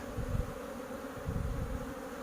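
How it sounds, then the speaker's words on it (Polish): Dense, continuous buzzing of many honeybees close up at a crowded hive entrance, a steady low hum that swells and eases slightly with no voices. "bo tej pszczoły jest coraz więcej, ona już ma ciężko wchodzić"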